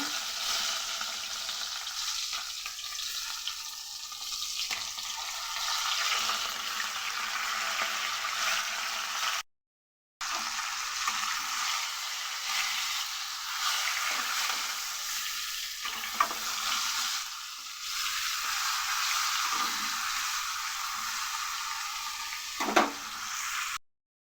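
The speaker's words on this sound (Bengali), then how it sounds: "নুন হলুদ মেখে রাখা মাছের মাথা ভেজে নেব।" Fish heads rubbed with salt and turmeric fry in hot oil in a kadai, a continuous loud sizzling hiss with occasional clatter from stirring and a brief cut partway through.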